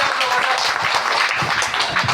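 A group of people clapping in steady, continuous applause, fairly close, with a busy patter of many hands over a couple of seconds and faint voices underneath.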